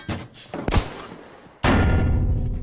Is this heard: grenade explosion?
yes